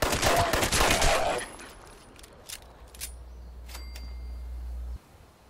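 Gunfire in the video game Fallout 76, a dense burst of rapid shots at the start, then a few scattered single shots over a low steady hum.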